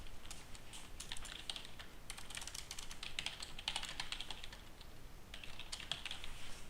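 Quiet, rapid typing on a computer keyboard while writing code, a continuous patter of soft key clicks with short pauses, close and faint.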